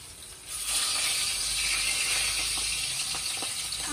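Fish dropped into hot salted oil in a wok set off a loud, steady sizzle and hiss that swells after a brief start and keeps crackling close by.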